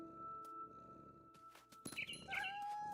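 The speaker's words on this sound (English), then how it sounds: "Oh, I meowed." A cat meowing in the game What Remains of Edith Finch, a couple of short meows near the end following soft ambient game sounds, moderately quiet and close.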